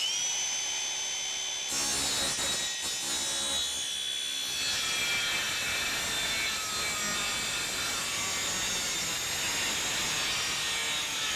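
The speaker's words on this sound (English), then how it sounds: "we'll cut this last little piece of angle by freehand" A power saw cuts freehand through a small piece of metal angle during a Jeep storage platform build, a loud sustained whine that starts abruptly, stutters briefly and then grinds on steadily for about ten seconds.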